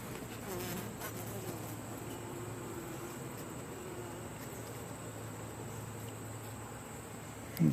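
A steady, close hum of many honey bees buzzing around an open hive during a midsummer inspection, continuous and even throughout with a faint clunk at the very end.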